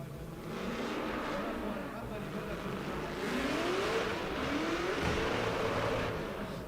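Drift car accelerating and revving into a drift initiation at an international drift championship qualifying round, a steady engine roar rising in pitch under a commentator's voice.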